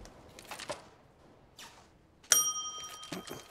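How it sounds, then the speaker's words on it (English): A single bright bell ding rings out sharply amid quiet background noise during a Counter-Strike match broadcast on Dust 2, its clear tone lingering for about a second after a few faint rustles. "No more ringing the bell. It's actually quite annoying now."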